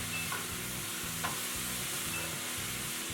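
Beans and peppers sizzle and fry in a pan over a medium flame, a steady close hiss with a soft repeating low rumble underneath and no talking.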